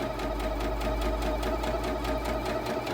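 A Lia sewing machine stitching steadily at a higher speed, its rapid needle strokes forming an even, fast mechanical rhythm close up, with no talking.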